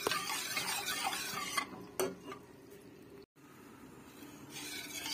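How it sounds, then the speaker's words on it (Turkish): Quiet stirring of yogurt soup in a pot after water has been poured in, with soft liquid swishing, a few faint utensil clinks against the pot, and near silence between strokes. "Şimdi su döktüm. Devamlı karıştırmam lazım."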